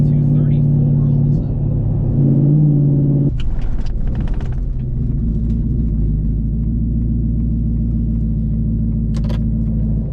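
A twin turbo 5.0 Ford F150 from Velocity Performance sits running with its transmission hot, a steady deep engine rumble throughout, briefly broken by a few seconds of clattering noise, with voices talking over it.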